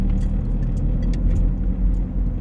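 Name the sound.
car driving into a car park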